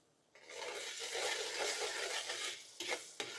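Ginger garlic paste frying with softened onions in a pan for rajma masala, a bright, continuous close sizzle that starts abruptly and holds steady, with a few stirring knocks near the end and no talk.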